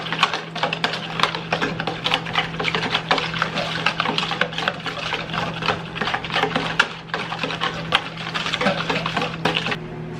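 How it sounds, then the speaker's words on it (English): A whisk scrapes and clicks rapidly against a bowl, mixing cornstarch, salt and pepper in a steady, close, busy rhythm with a low hum running underneath. "we're just gonna kind of whisk this together"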